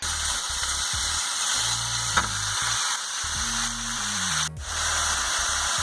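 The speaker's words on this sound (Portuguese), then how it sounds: "nós vamos dar uma grelhadinha no abacaxi" Pineapple grills in a frying pan still coated with pork chop drippings, giving a constant, close hiss and sizzle that goes on without a break, with faint tonal background sounds.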